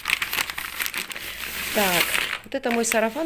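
Sheets of paper bought for sewing patterns crinkle and rustle up close while someone talks over the handling.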